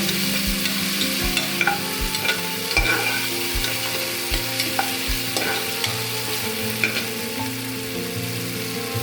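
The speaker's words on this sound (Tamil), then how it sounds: "இதை போட்டு இந்த பச்சை வாசனை போகிற வரைக்கும் வதக்கிட்டு" A paste of five or six ground green chillies is sautéed and stirred in a pan for quail biryani, giving a steady close frying sizzle with regular scraping strokes of the spoon against the pan.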